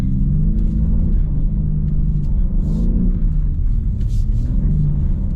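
A 510hp rear-wheel-drive BMW slides on ice with its engine loud and close, a low droning rumble that rises and falls as the throttle is modulated, holding steady with no pauses.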